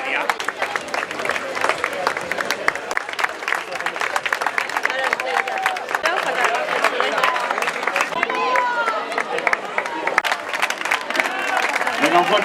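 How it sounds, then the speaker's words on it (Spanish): A large crowd at the Chelva hill climb race in Spain claps steadily and loudly, dense applause with scattered cheers and crowd noise mixed in throughout. "Un fuerte aplauso para Diana Estivaliz, Joana Tomasa y Sonia."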